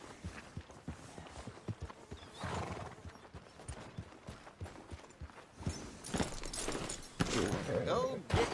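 Horse hooves clip-clop in a steady walking rhythm in Red Dead Redemption 2 on PS4 Pro, with a whinny and louder hoof and tack sounds near the end, faint speech in the background.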